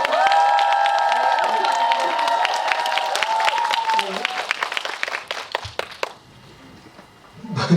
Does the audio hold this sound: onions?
no